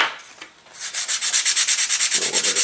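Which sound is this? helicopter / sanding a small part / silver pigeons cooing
sanding a small part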